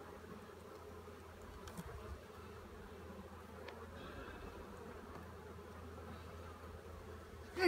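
A steady, low buzzing of many honeybees in an opened hive hums continuously at close range, with occasional individual bees droning past.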